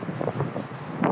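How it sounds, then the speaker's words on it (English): Strong wind buffets the microphone at the water's edge while trout and bass fishing in South Jersey in December, gusty low rumbling surges across the short clip with no speech. "See, it's so windy"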